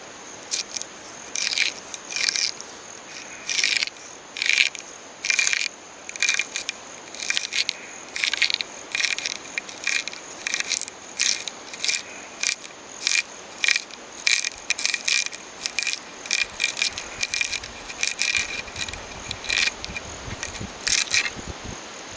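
Plant root material being split into thin strips by hand in the Guyana jungle, a long run of close, crisp crackling and tearing snaps in an irregular rhythm over a quiet, steady background.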